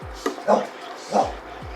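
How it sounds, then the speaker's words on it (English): Two short barks from a lab mix dog indoors, fairly close, separated by a pause, with faint whimpering sounds around them. "That's my dog, Luna."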